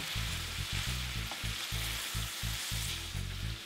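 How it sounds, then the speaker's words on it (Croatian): Sliced red bell pepper sizzles and fries in a pan while being stirred, a steady close crackling hiss with rhythmic scraping strokes throughout. "Ubacit ćemo i narezanu crvenu papriku, te je kratko propržiti uz miješanje"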